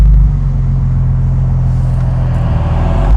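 A 1,400 hp car with a full exhaust, running on a lower map, gives a loud, steady low engine rumble that holds close and unbroken with no voices over it.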